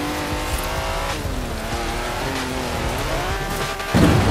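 An old car in Forza Horizon 4 cutting off-road through bushes, its engine droning loudly and steadily with rising and falling pitch, plus tire and scraping noise, alone throughout without talk.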